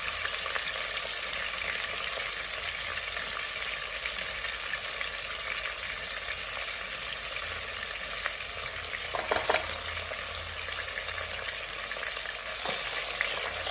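Egusi stew with spinach being mixed in a pot over low heat, a steady gentle sizzle running throughout with a few soft scraping and clinking stirs near the end.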